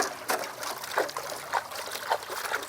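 Water trickling and splashing in gentle, regular pulses as miner's moss is rinsed during gold sluicing, close and fairly quiet with no talk.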